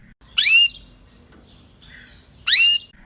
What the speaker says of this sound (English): They chirp, they tweet, and they sing, depending on the noise.